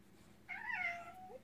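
A house cat gives one short, fairly quiet meow that rises and falls, heard alone against a faint background hum.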